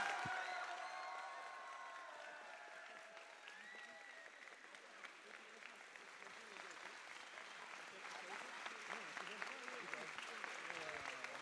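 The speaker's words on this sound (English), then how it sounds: "So give them also a round of applause." A large crowd at an esports gaming tournament final applauds loudly at first, then the clapping thins and continues more steadily with some scattered cheering mixed in.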